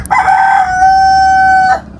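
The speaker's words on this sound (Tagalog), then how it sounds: "papakaingay naman ng manok po dito" A rooster crows once, loud and close, one long drawn-out call with a rising start and a sustained tone, heard alone, in a rural Philippine province.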